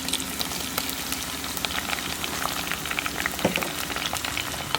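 Crushed garlic and small shallots frying in sesame oil for a village-style dried fish curry, giving a dense, even crackling sizzle with faint bubbling, close and continuous.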